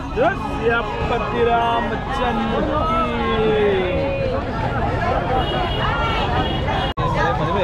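A crowd of pilgrims bustles at a temple in Ayodhya, a dense, steady hubbub of many overlapping voices and shouts close around, with nearby talk mixed in.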